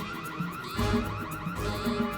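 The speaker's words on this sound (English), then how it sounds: "Did we anticipate an alarm going off after taking that off?" An alarm going off in a movie scene, a steady electronic ringing tone repeating in pulses with a fuller burst partway through, loud and continuous with no talking.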